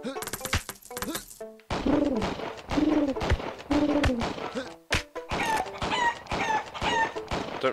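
Chickens cluck and squawk in the video game Bird Assassin, repeated bursts of cartoonish fowl calls and a rooster-like crow over game effects, loud and close.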